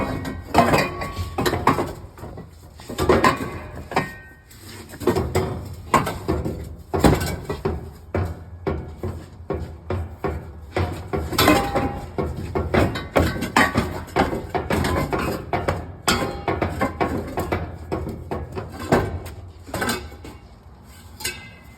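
Metal clanks and knocks repeatedly as a catalytic converter is wiggled out of the exhaust of a 2001-2007 Chevy/GMC 6.6L Duramax truck, irregular close scraping and banging that continues throughout.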